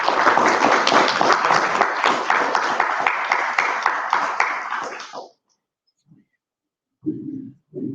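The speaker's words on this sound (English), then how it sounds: "Let's give everybody a round of applause." Audience members at a comics convention panel on the complexion of comics clap together loudly for about five seconds before the applause cuts off abruptly, followed by quiet and a few brief faint sounds.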